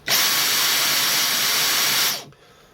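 Dyson DC44 Digital Slim cordless stick vacuum running with no attachment fitted, at normal power rather than max: a steady, close, loud whine with hiss that holds constant for about two seconds, then cuts off and winds down.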